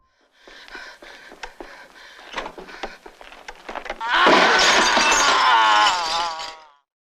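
Car window glass is smashed, with several sharp knocking impacts followed by a loud, sustained burst of shattering and tinkling glass that fades out after a few seconds.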